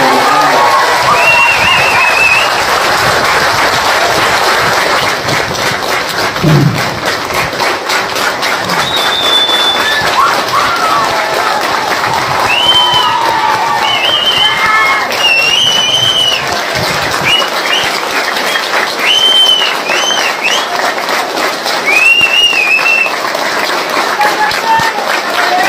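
A large crowd at a TVK party political rally for Vijay cheers and claps continuously for about 25 seconds, loud and close, with whistles and shouts rising above the roar.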